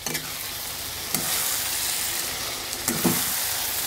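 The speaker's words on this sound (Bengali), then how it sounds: "এবার ম্যারিনেট করা মাংসটা দিয়ে দিচ্ছি।" Marinated mutton sizzles loudly in hot oil in a pan for a Bengali mutton curry, a dense continuous frying hiss close by, punctuated by a few spoon-stirring scrapes, with no speech.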